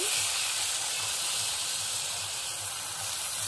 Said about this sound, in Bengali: ভেন্ডিগুলো এবার ভেজে নেব